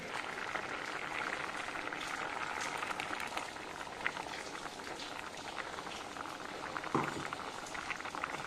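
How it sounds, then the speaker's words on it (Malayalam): A pot of jackfruit seed and cucumber curry bubbles steadily as ground coconut paste is poured in, a continuous soft boiling patter at moderate loudness with no talking. "നന്നായിട്ട് അരച്ചെടുത്ത തേങ്ങ നമുക്കിനി വെന്തുകൊണ്ടിരിക്കുന്ന കഷ്ണത്തിലേക്ക് ഒഴിക്കാം"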